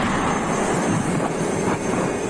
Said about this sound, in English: You can hear the jet turbine in the back of that tank, which tells us that it is a T-80.